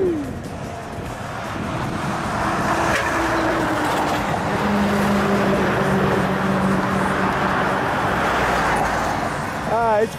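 Heavy trucks rumble past on a bridge, a continuous roar of traffic swelling and fading over about ten seconds.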